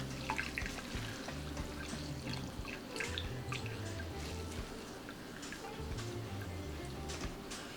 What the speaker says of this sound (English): I'm going to start squeezing the juice out.